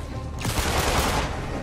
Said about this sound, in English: Got a bullet with your name on it, Spider-Man! It only takes one shot!